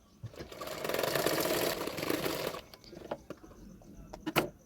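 A sewing machine stitches a hook strip onto a blouse, a steady close whirring run of rapid needle clatter for about two seconds, followed by scattered clicks and handling knocks.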